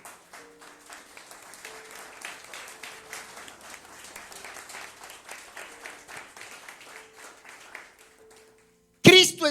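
A congregation at a Christian church service applauds with sustained, rhythmic clapping for about eight seconds while a voice speaks over it, and the applause stops abruptly at the end.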